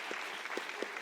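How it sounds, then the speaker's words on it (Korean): A church youth congregation claps for new students seated up front during a Sunday worship service, a brief, faint patter of applause with a few louder claps standing out. "우리 박수 한 번만 주시겠습니까?"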